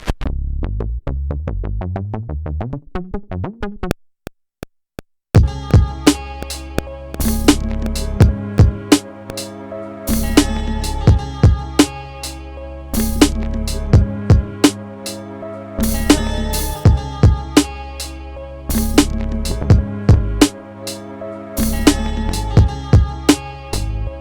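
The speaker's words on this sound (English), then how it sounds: "and I'm using the preset called Knock Bass." A Knock Bass preset from the Bassline plugin plays on an MPC Key 37, starting with a quick run of descending bass notes, then a pause, then a steady boom bap groove with sharp percussive hits over deep sustained bass.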